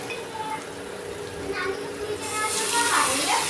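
Tomatoes go into a brinjal mixture frying in a pan, with the sizzle jumping louder and brighter midway and a soft stir scraping near the end, over faint background voices.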